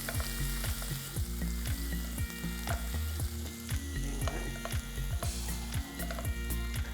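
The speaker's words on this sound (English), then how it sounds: "I'm going to add chopped garlic, chopped ginger. Cook for a few minutes." Chopped garlic and ginger sizzle steadily in hot oil with crackling cumin and coriander, a dense continuous frying hiss broken by regular scraping stirs of a spoon against the pan, close and loud with no talk.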